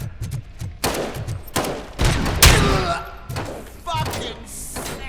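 Gunfire crackles in RoboCop: Rogue City as a rapid series of loud, sharp shots and heavy thuds hits in bursts about every second, and people shout over the shots.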